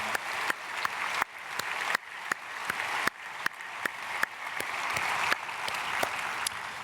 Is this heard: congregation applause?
yes